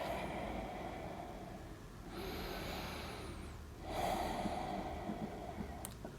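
Slow, deep breaths of a yoga breathing exercise: a long hissing inhale through the nose, then a fuller audible exhale, close to the mic over a low, steady background hum.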